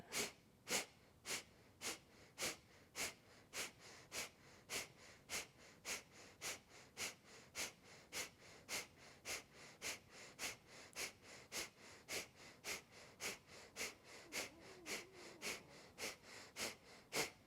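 Rhythmic pumping breaths in a yoga breathing exercise, sharp forceful exhales through the nose repeated at a steady pace of roughly one and a half per second, close and faint, with no talking.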